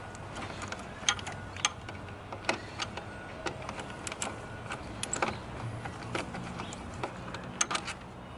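Removing T27 Torx bolts on a Volkswagen TDI diesel engine, with a series of sharp close metallic ticks and clicks from a ratchet tool, irregularly spaced over a low background hum.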